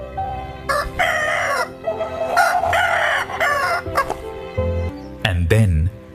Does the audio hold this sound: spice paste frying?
no